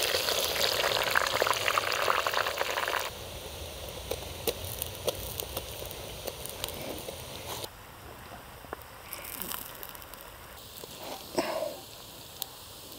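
Thinly sliced onions sizzle in hot oil for goat intestine biryani, a steady hiss and crackle that is loud at first and then settles into a softer spatter with scattered pops.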